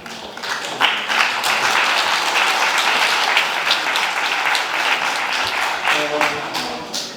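Sustained applause from a crowd at a farming event, a dense steady wash of clapping lasting several seconds before tapering slightly.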